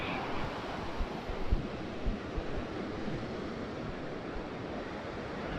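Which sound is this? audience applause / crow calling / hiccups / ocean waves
ocean waves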